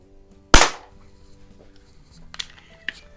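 A Gamo Compact .177 single-stroke pneumatic target pistol fires once with heavier pellets, giving a sharp, loud crack, followed by a few faint clicks and handling noises.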